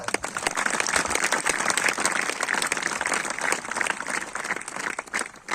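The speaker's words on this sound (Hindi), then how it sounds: "ऐसे उधारी वाली ताली बजाते हो मत।" A church congregation applauds at a gathering, a dense, steady burst of many hands clapping close by that fades slightly near the end.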